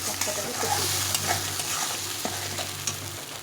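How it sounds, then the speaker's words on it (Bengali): Spices sizzle steadily in a pan while being sautéed, with scraping stirs and small crackles over a continuous low hiss, close and moderately loud, no talking. "বেশ অনেকক্ষণ ধরে মশলাটাকে কষিয়ে দিতে হবে।"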